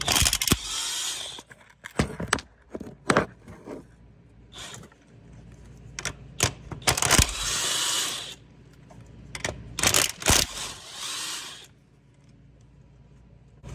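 15 mm nuts being worked off engine mount studs on a 3.0L Ford Escape, with bursts of ratcheting and impact-wrench-like whirring broken by metallic clinks and pauses, close by and without talk.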